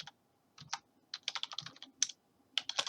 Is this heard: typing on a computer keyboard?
yes